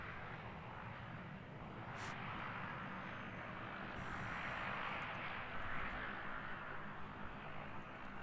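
Airbus A320 airliner taxiing at Christchurch Airport, New Zealand, toward runway 02, its jet engines a steady broad distant roar that swells slightly midway, with no voices.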